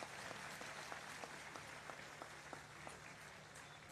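Crowd applause at an outdoor political rally in Nanded, a steady wash of many hands clapping, distant and faint, continuing without pause.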